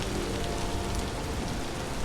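Steady rain patters on surfaces in the video game Vintage Story, an even, continuous hiss of drops with no voices.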